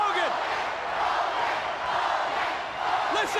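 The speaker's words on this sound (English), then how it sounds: "Listen to this crowd backing the former champion, Hulk Hogan" A large wrestling arena crowd roars and chants in support of Hulk Hogan, a loud dense wall of voices with rhythmic shouts throughout.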